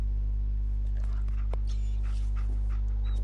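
Dog whimpering and panting in the game Fallout 4, soft intermittent whines over a strong steady low electrical hum, close and faint.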